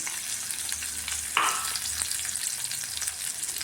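Garlic, onion and green chili with curry leaves frying in oil for sambar, a steady close sizzle throughout with a brief louder crackle as something is stirred or added midway.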